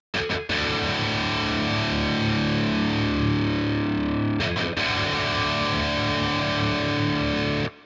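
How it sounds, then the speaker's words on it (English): A heavily distorted electric guitar plays thick, sustained chords at loud volume, broken by a few quick muted stops near the start and midway, then rings on before cutting off. "And then the distorted guitar comes in and sounds like this."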